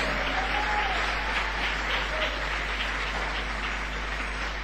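A church congregation at Iglesia Getsemaní applauds steadily and loudly for nearly five seconds, a dense sustained roar of many hands with faint vocal tones mixed in.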